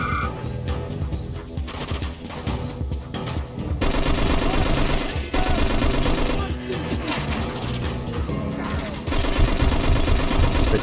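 Video game gunfire in a dark firefight, rapid automatic bursts and repeated shots, loud and continuous, with brief pauses between volleys.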